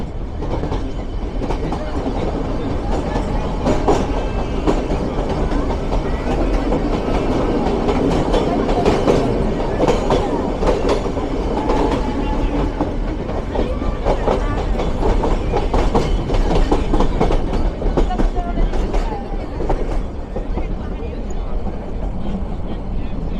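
The Ooty to Coonoor toy train rumbles steadily along the tracks with a rhythmic clatter, passing from one tunnel into another, continuous and fairly loud, with muffled voices beneath the noise.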